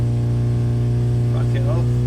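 Car engine held at wide open throttle on a dyno, a loud, steady low drone with strong throbbing tones, and a voice briefly talking over it.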